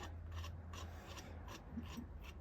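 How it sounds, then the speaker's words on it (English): A nut being unscrewed by hand from a threaded rod on a moo switch gives a steady rasping, scraping grind that pulses in short repeated strokes, close and fairly quiet, with no talking. "So now we can hold the thread, hold the nut and unscrew it"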